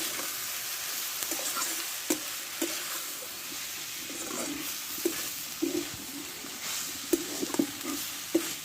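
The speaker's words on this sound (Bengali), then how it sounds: "আমি পেঁয়াজ রসুন ফুলের সঙ্গে ভালো করে ভেজে নেব" Onion and garlic fry with drumstick leaves in a pan, giving a steady close sizzle broken by occasional stirring clicks and scrapes, with no talking.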